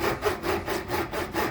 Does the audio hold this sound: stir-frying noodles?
no